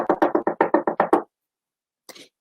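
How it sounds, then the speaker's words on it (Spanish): Someone knocks insistently on a ship's cabin door, about nine rapid, loud, close raps in a row, then silence and a brief faint sound. "golpearon la puerta de su camarote con insistencia"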